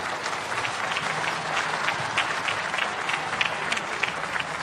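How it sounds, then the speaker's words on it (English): Mourners gathered at a burial applaud together, a dense, sustained round of clapping with scattered sharper claps standing out, close and loud throughout. "I would strongly invite that we all clap for him."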